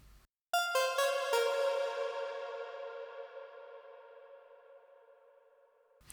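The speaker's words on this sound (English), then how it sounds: "the RV is really good for doing this kind of spacey, atmospheric sounds" A few plucked synth notes in Reason 10 ring out and blur into a long, shimmering reverb tail that slowly fades, spacious and echoing, with no voices.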